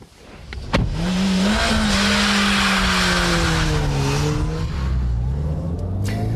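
A Ford Puma small coupe revs hard and drifts, its engine note climbing and holding loud and close with tyre squeal and skidding throughout, no voices.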